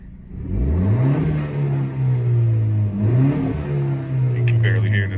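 A Honda Earth Dreams 1.5-liter turbo engine with an aftermarket blow-off valve revs up repeatedly, its loud, close drone rising and falling in a steady wavering pitch, with a faint hiss near the end.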